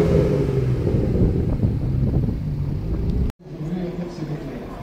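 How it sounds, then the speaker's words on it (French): A V8-engined Porsche AM at the Tour Auto rumbles loudly and steadily close by, engine noise filling the scene before a brief dropout, then resuming slightly quieter. "Ici encore une Porsche, celle-ci avec un gros V8."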